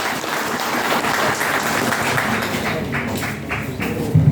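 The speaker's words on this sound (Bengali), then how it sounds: "সকলেই তার উদ্দেশ্যে জোরে করতালি দিব আমরা" Sustained audience applause fills a stage event as a woman is welcomed up, steady dense clapping from a crowd heard alone for several seconds.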